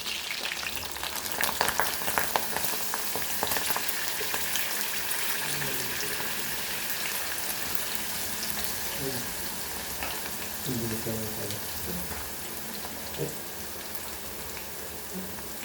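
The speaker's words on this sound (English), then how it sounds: "so now we will add our garlic to this." Garlic frying in a pan, a steady hissing sizzle with scattered pops that sounds much like rain, with some soft clatter and quiet background voice at times.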